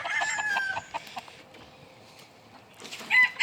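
Buff Bantam chickens in a brood pen give a run of close, rapid clucks, then fall quiet before a brief louder squawk at the end.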